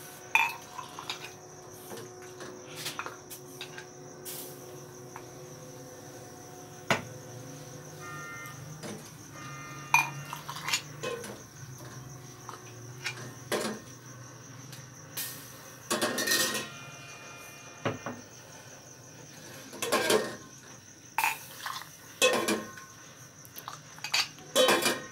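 Cups and dishes clink and clatter as Kashmiri tea is poured in a kitchen, scattered close knocks of china and metal across a quiet background, growing busier toward the end.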